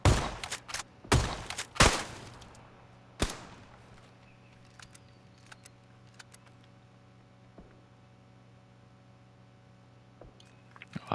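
Several sharp gunshots crack in a PUBG match, clustered in the first few seconds and then a few sparse, fainter pops against a quiet background.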